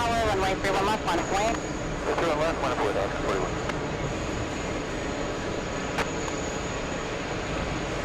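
Boeing 737 airliner engines at JFK airport on the Fourth of July, heard as a steady broad jet roar that continues after a stretch of talk at the start.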